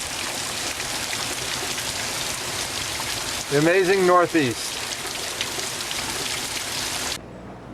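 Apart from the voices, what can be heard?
rain falling outside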